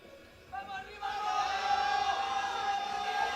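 A crowd at a European classic powerlifting championship roars in support of a lifter, swelling suddenly to a sustained loud cheer with shouting mixed in, a commentator's voice running underneath.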